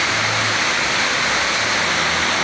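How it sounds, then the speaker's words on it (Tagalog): Heavy typhoon rain pours down as a steady, loud, broadband roar that stays continuous and even throughout, with no voices over it. "Klaro na nagkusok ng ulan."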